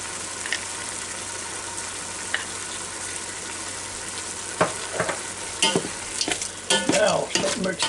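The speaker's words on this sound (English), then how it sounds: "Now start mixing all that" Beef stirred with pepper, salt and barbecue sauce in a Ninja Foodi Deluxe pot: a steady close sizzle with wet squelching and scraping bursts from the utensil that grow busier toward the end, no voices.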